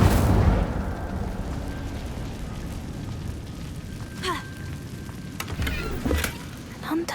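Incendio fire spell cast in Hogwarts Legacy inside a cave, a burst at the start followed by crackling rumble and a few sharp bright flares later, with faint speech-like sounds mixed in.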